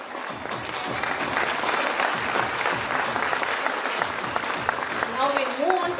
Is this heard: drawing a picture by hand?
no